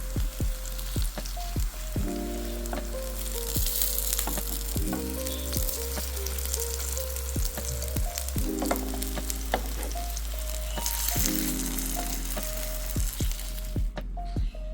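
Smiley-face potato shapes fry in a pan with a continuous crackling sizzle, punctuated by sharp clinks and scrapes as the pieces are turned.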